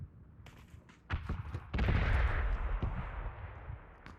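Heavy red zone artillery bombardment in PUBG, with loud booming impacts and sharp blasts that build into a sustained, rumbling barrage, no talking.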